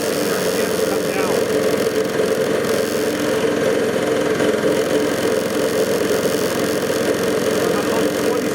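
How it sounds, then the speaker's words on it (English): Yanmar YT624 tractor engine running close up at a steady mid-pitched idle-like drone, its speed eased down and brought back up with little change in the steady, continuous sound. "if I dial the engine down, the RPMs come down"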